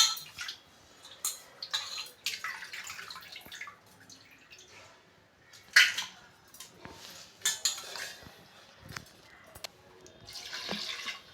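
Mutton pieces are swished and rinsed in a bowl of water during kitchen prep, giving close, intermittent splashes and sloshes with occasional clinks of the vessel and short quiet gaps between them.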